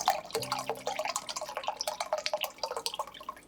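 Pineapple juice pours into a bowl for sweet and sour meatball sauce, a close, bubbly, splashing trickle with rapid gurgling glugs over a few seconds.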